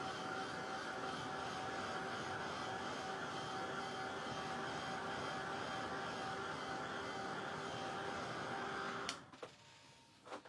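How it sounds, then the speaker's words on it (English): A small dryer blows steadily to dry paint on a painted hat, a constant whirring roar with a faint whine that holds for about nine seconds, then cuts off, leaving near-silence and a few small knocks. "So just a really quick dry with the dryer."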